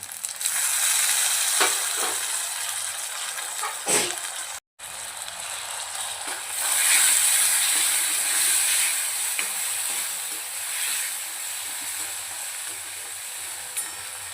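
Tomatoes hit a hot frying pan while a white bean curry (chavli) is cooked, setting off a steady loud hiss and sizzle that swells midway after a brief break, with faint kitchen clatter underneath.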